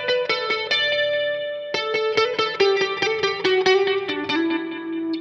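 A Manson MA-25 EVO Holosparkle electric guitar rings out through effects, a run of bright picked notes and chords with chorus, echo and reverb trailing each attack, clear and upfront with no talking.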